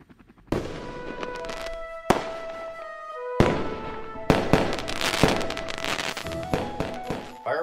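Fireworks set off to celebrate a homecoming crack loudly in a series of sharp bursts, each followed by crackling and ringing tails that overlap into a dense, sustained barrage.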